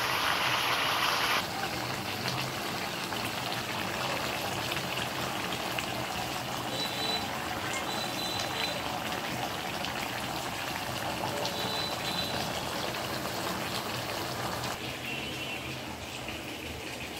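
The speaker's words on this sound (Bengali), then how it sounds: "মশলা কষানো হয়ে গেছে, এখন মাংসগুলো ছেড়ে দিয়েছি।" Chicken pieces simmer in a pot of spiced masala, a steady close bubbling and gurgling hiss that runs unbroken and fairly loud throughout, with no voices.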